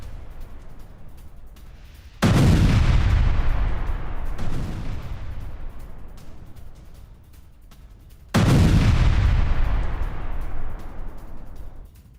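Artillery fire strikes Ukrainian posts near Sumy and Kharkiv: two heavy blasts and a smaller one crack out over about twelve seconds, each followed by a long, rumbling decay, with no voices.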